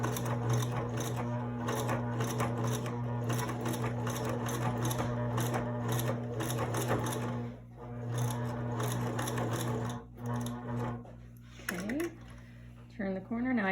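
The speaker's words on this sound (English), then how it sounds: "now you're just gonna sew right along the edge of the whole thing" A sewing machine runs steadily while stitching along the edge of a thick fabric mask, a close continuous motor whir with needle chatter that slows and stops briefly near the end, with someone talking over it.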